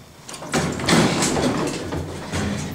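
A Westinghouse hydraulic elevator's sliding door rumbles shut nearby with a smooth mechanical whoosh lasting a couple of seconds, no voices present.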